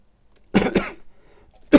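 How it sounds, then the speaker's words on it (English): A smoker coughs twice in quick succession, close and loud, then gives one more short cough after a pause, with no talking. "Sorry for the coughing."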